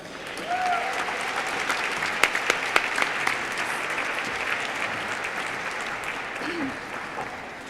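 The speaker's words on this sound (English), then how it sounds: "Please give a round of applause to Michelle Clayman" Audience applause at an awards dinner, a full room clapping steadily at a moderate distance, with a few sharper nearby claps and faint murmuring voices mixed into the wash.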